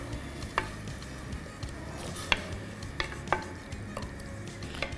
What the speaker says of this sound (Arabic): نقلي البصل والثوم شوي